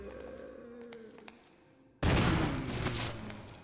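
A gunshot in Resident Evil HD, a survival horror game, bursts out loud and sudden after a quiet stretch of game ambience, its sharp blast trailing into a long, noisy reverberant tail.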